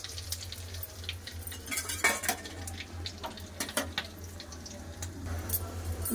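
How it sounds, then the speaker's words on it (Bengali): Whole garam masala and a bay leaf fry in hot mustard oil in a pan, giving scattered close crackles and spits over a low steady hum, with occasional utensil clinks. "গরম মশলা ভালো করে ভাজা হয়ে গেছে"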